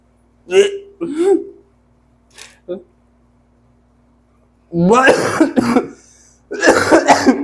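Several short coughs and throat-clearing bursts come early, close and moderately loud, from a pungent chilli smell during a Jolo Chip challenge, then longer stretches of people talking follow.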